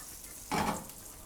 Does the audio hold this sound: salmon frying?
yes